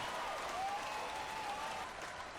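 Steady applause from an audience after a Brazilian dance troupe's farewell performance, sustained clapping at moderate level without pauses, fairly distant and diffuse.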